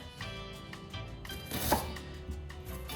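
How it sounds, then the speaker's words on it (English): A knife cuts thin slices through a sweet potato held by its root end, giving quick close chopping taps against a cutting board with one sharper cut in the middle, no voices. "I'm gonna hold the root and I'm gonna slice the other side."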